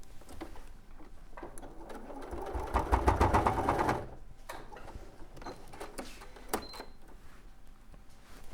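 Sewing machine running basting stitches on a rabbit toy, a steady mechanical whirr that swells loudest near the middle, with soft clicks and handling noises before and after, no talking.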